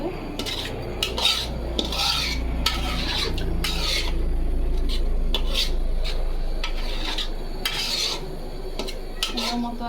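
Marinated meat being stir-fried in a pan for biryani, coated in yogurt, soy sauce and tomato sauce. Metal utensil scrapes and clinks against the pot repeatedly over a steady low frying hiss, close and continuous, with no talking.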